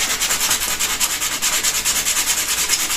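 Window frames being sanded by hand to strip old paint, a steady rhythmic scraping rub with quick repeated back-and-forth strokes, close and fairly loud, no voices.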